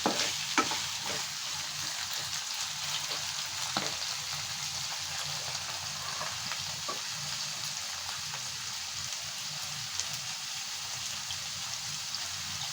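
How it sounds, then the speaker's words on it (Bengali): Bitter gourd and potato pieces fry together in a pan, with a steady, even crackling sizzle throughout and occasional soft clicks of stirring, close by and moderately quiet. "আমি আলু আর করল্লাটা একসাথে একটু ভেজে তুলব।"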